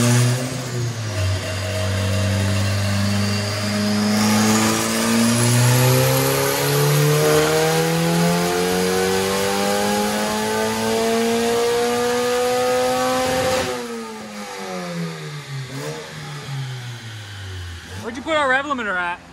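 K-swapped Porsche engine revving hard on a dyno, a loud, close, rising wail that climbs in pitch for many seconds before dropping off, followed by quieter blips and another rising rev at the end.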